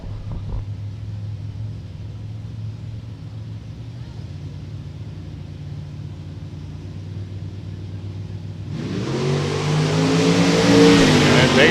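A 1965 Chevy Malibu and a 1965 Dodge launch off the line at an NHRA Hot Rod Reunion drag race: a low idling rumble holds, then a sudden loud surge of roaring engines builds toward the end.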